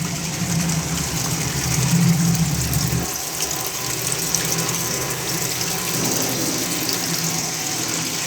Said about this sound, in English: water starts to coming out from this water level scale